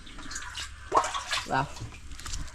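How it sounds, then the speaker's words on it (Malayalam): Water scooped from a bucket and poured gently onto a water lily plant, giving a short splashing pour with a few drips, partly under speech. "അതിൽ നിന്ന് വെള്ളം കോരി പയ്യെ അതിലേക്ക് കൊണ്ട് വീത്തി കൊടുക്കാം"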